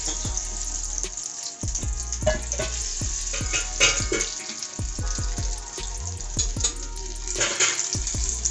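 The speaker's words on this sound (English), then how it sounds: "So just dip into this batter and put it into oil." Egg-battered bread sticks frying in hot oil, a loud continuous sizzle and crackle with bursts of popping, close up with no talking.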